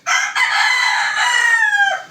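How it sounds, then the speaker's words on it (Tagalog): A rooster crows loudly and close by, one long drawn-out call that breaks briefly near its start and then stretches on, trailing off at the end, in a hot midday street setting. "May tilawak na manok."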